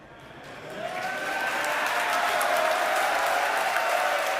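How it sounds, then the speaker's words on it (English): A crowd cheers and applauds at a SpaceX Starship booster landing burn, a dense wash of clapping and whooping that swells within the first second and holds loud and steady. "I have a feeling the crowd's about to go wild here."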